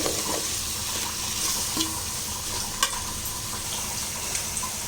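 Biryani masala and yogurt sauté in a pan for seeraga samba chicken dum biryani, a close, continuous sizzle broken by scraping stirs and a few spoon knocks on the pan, with nobody speaking.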